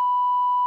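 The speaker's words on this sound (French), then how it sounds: "il va avoir un bip" A single censor bleep on a French-language podcast: a steady, pure electronic tone that lasts under a second, loud and on its own.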